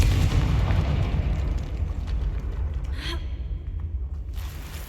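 Confringo blasting spell from Hogwarts Legacy on PC: a loud, heavy explosive boom at the start whose low rumble rolls on and slowly fades, with a sharp burst around the middle and another crack near the end.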